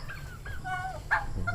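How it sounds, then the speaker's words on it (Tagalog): Several turkeys on a farm give short honking, warbling calls in a quick run, with one louder call near the middle. "Mga pabo, ang dami na."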